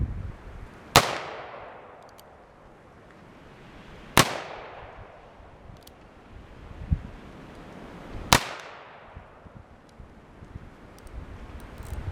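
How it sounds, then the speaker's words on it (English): An 1858 revolver fires combustible paper cartridges outdoors, giving three loud, sharp shots spaced about three to four seconds apart, each followed by a ringing decay, under light wind noise. "Now, I don't have a target, so I'm just going to aim that way and shoot."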